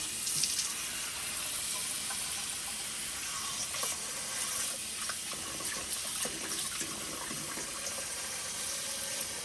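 Steady running water pours and splashes continuously as salmon roe is rinsed in a bowl or sink, close and even throughout.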